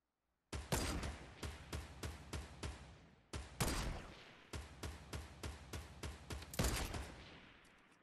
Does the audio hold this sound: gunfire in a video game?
yes